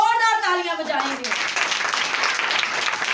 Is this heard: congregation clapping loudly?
yes